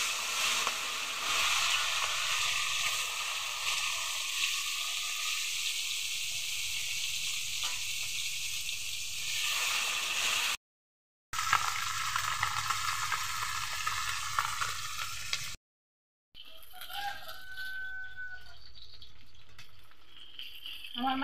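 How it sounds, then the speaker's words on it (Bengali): Fish, small local baim eels, sizzle in hot oil in a pan over a stove, a steady loud crackling fry with brief cut-outs and stirring noises later on. "এখন আমি মাছগুলো ভেজে নেব।"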